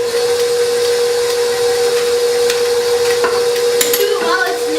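Dry flour mixture being stirred into wet cinnamon-chip cookie batter in a bowl, a steady close scraping and stirring with a few sharper knocks near the end.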